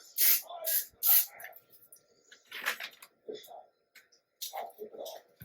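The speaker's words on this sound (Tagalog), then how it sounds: "So, we'll spray this a little bit only." A cooking spray hisses onto a grilling pan of a PowerXL smokeless grill in short bursts, several quick sprays between stretches of a person talking nearby.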